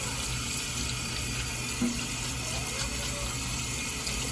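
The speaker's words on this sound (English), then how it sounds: "And see, I'll be using boiling water to wash my hands." A kitchen tap runs steadily with boiling water while hands are washed, a constant close hiss and splash of flowing water with slight changes as hands move under the stream.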